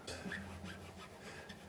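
A bowed cello string slides in pitch as a finger glides along it with light thumb pressure, a soft, raspy rubbing tone, brief and continuous, without any talking.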